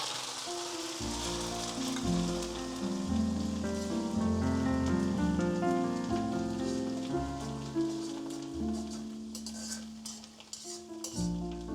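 Curry leaves fry in hot oil for a Marathi poha chivda snack, giving a steady crackling sizzle under music that plays throughout.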